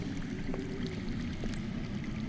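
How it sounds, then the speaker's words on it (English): Steady, muffled rush of water flowing underground in the Game of Thrones Telltale video game, low and continuous, like a stream running somewhere below, with no other sounds. "That's water. I hear water. From underground."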